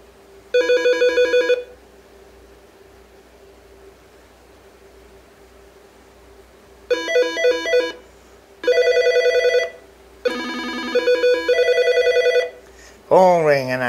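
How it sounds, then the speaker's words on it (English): A telephone rings in repeated electronic bursts, loud and close, with quiet gaps between them and a short rising tone at the end. "And the phone rings."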